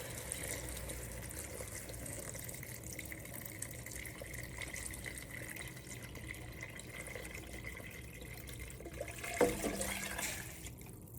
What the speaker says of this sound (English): So I am gonna add in my vegetable broth now.